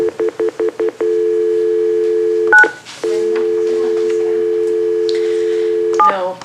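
A telephone keypad dialing at a city council meeting: six short, evenly spaced touch-tone beeps, then a long steady tone broken briefly by a click, and the tone resuming, loud and close with no talking.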